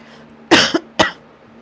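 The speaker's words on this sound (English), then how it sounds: "made me cough a little bit there" Two harsh coughs break a quiet room tone, the first with a short double burst, the second a single hack.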